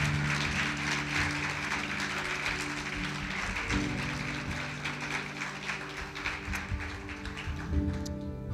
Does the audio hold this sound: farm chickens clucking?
no